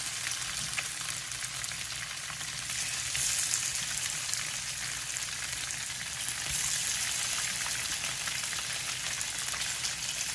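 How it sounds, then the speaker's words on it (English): Extra firm tofu frying in a pan gives a steady, close sizzle and crackle of hot oil that runs unbroken and fairly loud throughout. "Gonna fry them on all four sides."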